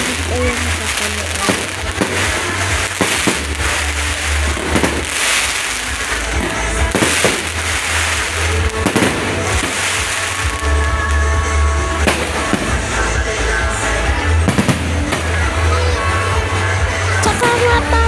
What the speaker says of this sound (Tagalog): Paparinig ko nga lang muna sa inyo mga beauty yung fireworks